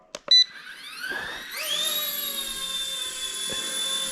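A small Motion RC model helicopter spins up and lifts off on auto takeoff, its rotor and motor whine climbing in pitch after a couple of clicks, then holding a steady, close, high electric drone.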